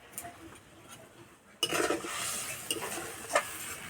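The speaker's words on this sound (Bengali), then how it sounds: "ঝোলটা ভালো করে ফুটিয়ে নেব।" Tamarind fish gravy in a pot being stirred, with a quiet start followed by sudden scraping and bubbling sizzle and a few clinks of a spoon against the pot, close by with no talk.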